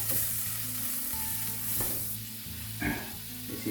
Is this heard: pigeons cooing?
no